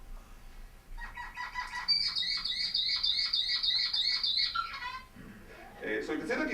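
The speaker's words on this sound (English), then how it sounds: "an isolate song that sings a song that is actually sounds more like another species, a little bit more like a canary song" Zebra finch isolate song that resembles a canary's, with one syllable repeated again and again in a steady, rapid train of bright, clear notes, followed by a brief rustle.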